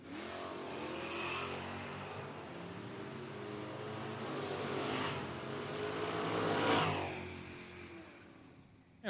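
Drag racing at a footbrake event, a 1969 Camaro chasing a Dodge down the strip: engines roar and swell, with several surging passes rising and fading at a moderate distance over a steady background rumble.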